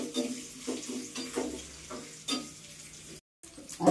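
Tempering spices sizzling in oil for rasam, a quiet sputtering crackle with a few sharper bursts, fairly faint and close, cut by a brief silence near the end.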